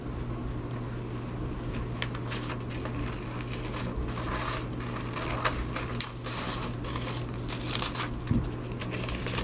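Scissors snip a paper heart shape in steady bursts of crisp cutting and crinkling, close by and fairly loud, with no talk.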